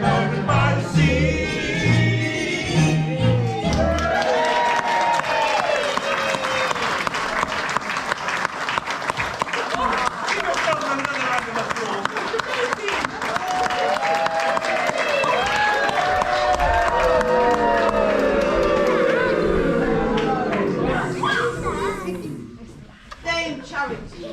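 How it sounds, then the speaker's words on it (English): Sustained, loud applause from a theatre audience at an amateur village pantomime, Babes in the Wood, with steady clapping filling the hall for over twenty seconds, scattered voices and children's calls mixed in before it fades near the end. "That was the applause."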